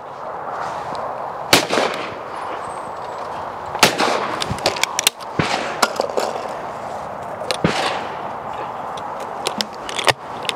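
Shotgun blasts from a 28-inch Browning 525 game gun fired outdoors at clay targets, several sharp loud reports at irregular intervals with quieter pops between and a steady background hiss.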